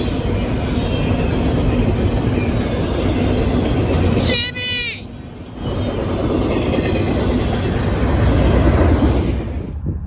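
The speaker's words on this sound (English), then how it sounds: "a CSX hotshot intermodal train, another eastbound, to Berea" A CSX hotshot intermodal train rolls past eastbound toward Berea, a loud steady roar of wagons and wheels lasting throughout, with a brief high squeal of wheel flanges midway before the rumble resumes.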